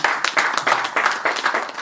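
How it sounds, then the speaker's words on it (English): A book launch audience breaks into dense, fairly loud applause, many hands clapping together in quick, pulsing waves for a short burst. "A round of applause for me,"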